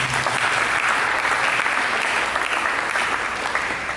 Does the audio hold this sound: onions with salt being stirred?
no